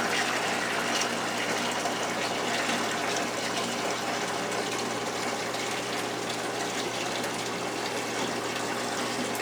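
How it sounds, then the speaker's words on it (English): Steady rushing water pours and gushes continuously through a siphon hose into a bucket during a saltwater aquarium water change, a constant splashing roar, loud and close throughout. "Try to get the water in the bucket and not all over the floor."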